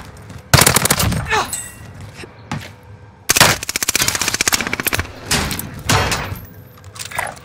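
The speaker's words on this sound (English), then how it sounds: "I'm taking fire." Bursts of automatic weapon fire in a military shooter game, loud close volleys of rapid shots separated by short pauses, with scattered single shots and thuds between bursts.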